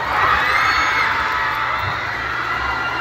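A loud, dense crowd at a pride costume parade cheers and whoops steadily for a few seconds, a broad wash of shouting voices sustained throughout.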